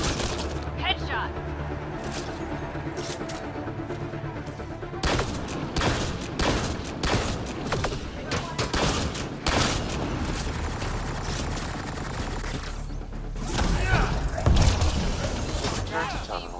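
Gunfire in the video game Mass Effect Andromeda: bursts of sharp, loud shots and mechanical clatter come in clusters over a game soundscape, with a voice speaking at moments.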